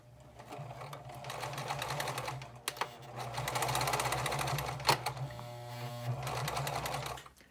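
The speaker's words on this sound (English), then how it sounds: "I'm sewing on the 15 line." A sewing machine stitching a bag seam, a rapid close mechanical whir that runs almost continuously, broken by a couple of brief pauses and clicks, with no talk over it.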